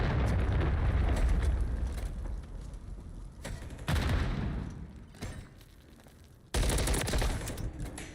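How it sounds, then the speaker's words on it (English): A friendly cruise missile strikes in Call of Duty Warzone, producing loud roaring blasts and rumbling explosion bursts that cut off and restart in heavy waves. "Friendly cruise missile approaching."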